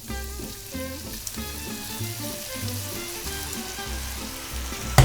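Pasta tossed into a frying pan with sautéed ingredients sizzles steadily and close, while a tonal background melody plays underneath.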